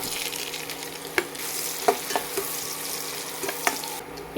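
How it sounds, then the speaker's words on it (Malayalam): Carrots frying in a hot pan for a biriyani, with a steady sizzle and a few sharp scraping knocks as a spoon stirs them, close and continuous, no talking. "ഇനി അതിലേക്ക് ലാസ്റ്റായിട്ട് ഇട്ട് കൊടുക്കുന്നത് ക്യാരറ്റ്"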